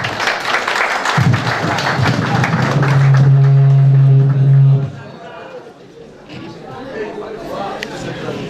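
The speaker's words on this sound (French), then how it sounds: "Sous vos applaudissements, s'il vous plaît." Audience applause at a year-end school ceremony in Turkey, with steady clapping and chatter mixed in along with a sustained electronic hum, then the clapping fades to a quieter murmur.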